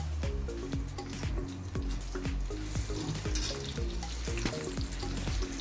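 Large onion chunks frying in hot vegetable oil in a pan, a steady dense sizzle with soft crackles and occasional stirring scrapes, close and continuous with no talking.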